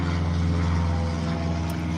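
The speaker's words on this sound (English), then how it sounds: "There's an airplane." A propeller airplane flying overhead gives a loud, steady droning hum with a low engine tone that holds throughout.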